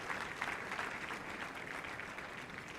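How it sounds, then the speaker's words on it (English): Dense, steady applause fills a hall at a high school sports awards night, a large crowd clapping continuously in a broad wash of sound throughout. "a big round of applause for all the Ledger Prep athletes, coaches, and schools of the year"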